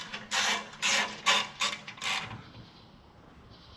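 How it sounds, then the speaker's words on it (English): A ratchet wrench snugs the lead edge bolts of a BudBuilt skid plate on a Toyota Land Cruiser 200 / Lexus LX570: five quick, close bursts of clicking, then quiet. "Just tighten up your lead edge bolts."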